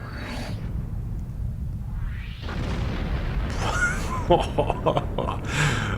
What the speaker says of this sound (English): explosions are pushing me all over the place